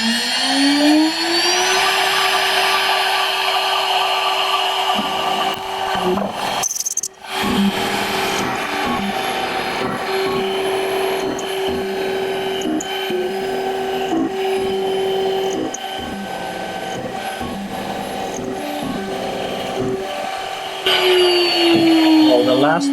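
A DIY CNC machine mills deep into a 50 mm thick plate, giving a loud, steady grinding whine that holds throughout with a brief cut-off midway.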